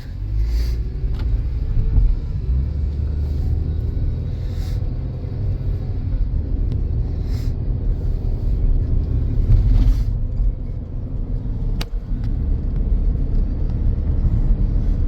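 A 2013 Chevy Captiva on a test drive, steady loud road rumble and engine drone from inside the cabin with light tire and wind noise and small bumps.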